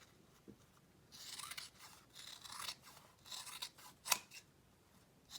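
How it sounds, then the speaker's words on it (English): Scissors snip around the edges of a piece of fabric or paper, trimming about a quarter inch. Several crisp cuts come in irregular bursts, close and fairly loud, with one sharp snip standing out near the end and no talk. "Then go around the edges, trim them."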